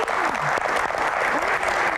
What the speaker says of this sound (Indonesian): Tepuk tangan buat malam ini.